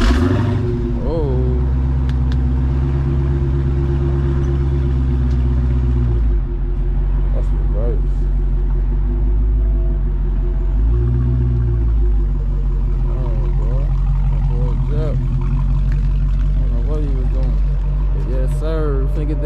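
A Dodge Hellcat with its mid-muffler deleted throbs in a deep, loud rumble, swelling and settling through a few revs while someone talks over it.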